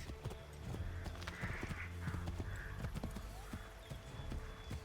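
Rhythmic clip-clop of horse hooves moving at a steady pace in Assassin's Creed 3 Remastered, fairly faint, with a few other game sounds around it and no talking.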